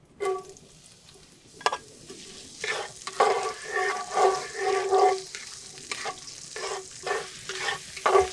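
Onions sizzle in a hot pot for a Jamaican oxtail stew while a spoon scrapes and stirs them in repeated close strokes over a steady frying hiss, with no voices.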